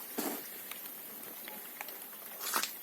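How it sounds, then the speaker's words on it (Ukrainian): Light rain patters softly in a vineyard with scattered, irregular drops striking nearby surfaces, faint and sparse with a couple of louder splats. "І ось опять накрапає дощик"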